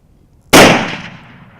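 A single sharp, loud rifle shot fired at a deer during an outdoor hunt, breaking a quiet background and leaving a decaying echo over the next second.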